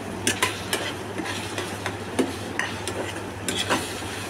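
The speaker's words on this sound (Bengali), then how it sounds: "এরপর নাড়তে হবে কিছুক্ষণ।" Ginger paste, garlic paste and chopped tomato stirred in a pan, repeated scraping strokes of a spoon against the pan over a constant low sizzle and hum, no talking.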